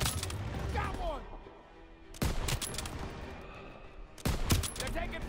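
Gunfire from Call of Duty WW2 comes in three loud, dense clusters of rapid shots with brief lulls between, while voices talk underneath.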